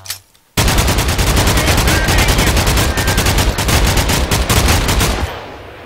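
Rapid automatic gunfire from Minecraft Flans mod guns, a loud, steady stream of evenly spaced shots running for about five seconds after a short quiet start, then stopping abruptly.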